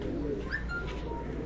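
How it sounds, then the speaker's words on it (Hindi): A pigeon coos softly on a rooftop, a low murmuring call over a steady background hum. "6:20 ते जी आखिरी कबूतरी आके बैठी है जी"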